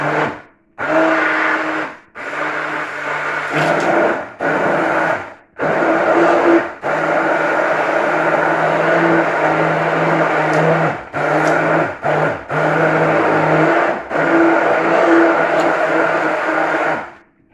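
A blender purees blackcurrants with 200 grams of water for homemade cordial, giving a loud, steady whirring grind that cuts out in several brief pauses between bursts, with no talking.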